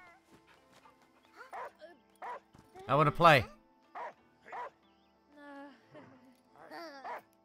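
A dog in the video game Last Day of June barks and yips in short bursts, with one louder whimpering cry, while people talk over it.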